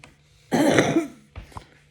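One harsh, throaty cough bursts out, followed a moment later by a softer throat-clearing sound, close by in an otherwise quiet room.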